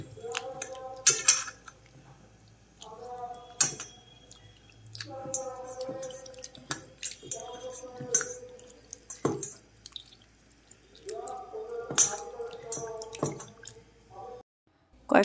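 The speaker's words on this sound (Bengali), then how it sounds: "জল দিয়ে দিলাম, ভালো করে হাত দিয়ে মেখে তেঁতুলের মাড় বের করে নেব।" Tamarind pulp squeezed and kneaded by hand in water, intermittent close wet squishes and drips in bursts with pauses, quiet and alone.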